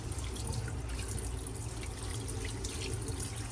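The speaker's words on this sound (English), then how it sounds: "I'm gonna drain the liquid." Soaking liquid poured off cooked whole soybeans into a sink, a steady close trickle and splash of water running continuously without talk.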